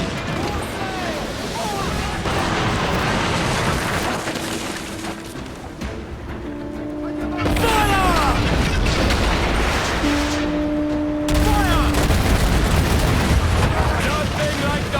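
Ship cannons boom from a pirate vessel in Assassin's Creed Black Flag, heavy repeated blasts rolling out over a battle din, with voices shouting amid the firing.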